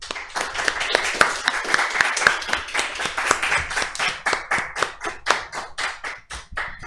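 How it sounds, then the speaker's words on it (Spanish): A small conference audience claps, starting as dense applause and thinning into fewer, distinct hand claps in an uneven rhythm before trailing off. "lo despedimos con un fuerte aplauso."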